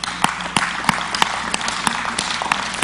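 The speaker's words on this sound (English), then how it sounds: "I know you're clapping" A church audience applauds, a steady wash of many hands clapping with a few sharp, regular single claps standing out above it, no talk.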